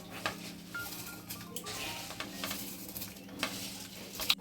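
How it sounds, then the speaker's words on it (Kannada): Rice goes into a pot of boiling chicken pulao and gets stirred. A soft, steady bubbling and sizzle runs under scattered scrapes and clinks of the spoon against the pot, with one sharp clink near the end. "ಇದು ಚೆನ್ನಾಗಿ ಕುದೀತಾ ಇದೆ. ಅಕ್ಕಿನ ನಾನು ಇದಕ್ಕೆ ಹಾಕೊಳ್ತಾ ಇದ್ದೀನಿ."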